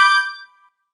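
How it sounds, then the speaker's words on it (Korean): A doorbell gives a single bright chime that rings out alone and fades away within about half a second. "현관문 앞에 서자마자 익숙하게 초인종을 눌렀습니다"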